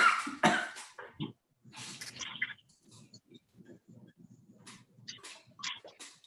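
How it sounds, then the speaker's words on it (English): A single person coughs close to the microphone, several harsh bursts in quick succession, followed by quieter throat-clearing rasps and breathy sounds trailing off in a quiet room. "I'm gonna cough"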